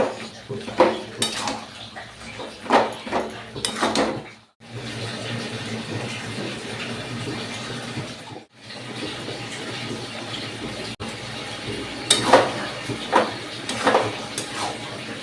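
Boiled banana flower is stirred in a metal cooking pot, giving repeated scraping and clinking strokes in bursts with short pauses, close by, alongside faint watery sounds.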